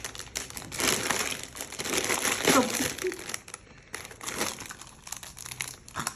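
A plastic gift bag crinkles and rustles close by as it is handled and opened, with bursts of crackling under and between someone speaking.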